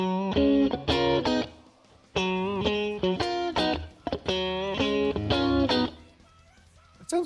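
Blues electric guitar run through a compressor plug-in, playing phrases of sustained, ringing notes and short chord stabs that start and stop in clear bursts, loud and close with no talking.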